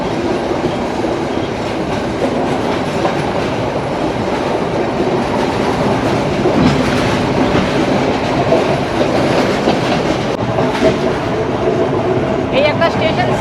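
A train in Sri Lanka runs along its rails, skipping stations, with a loud continuous rumble and clickety-clack of the wheels, heard up close from inside the carriage with some brief squeals.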